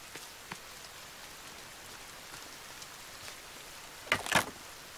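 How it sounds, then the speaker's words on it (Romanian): Rain falling in the survival game The Forest, a steady soft patter with scattered drop impacts, and a couple of sharper, louder splashes near the end. "Ia, iar vine ploaia."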